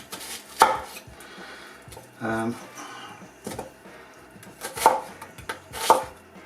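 A knife chops a small onion on a board for a smoked brisket ragu. Sharp, isolated cuts come a second or more apart, close and clear, with a short murmur of voice between them.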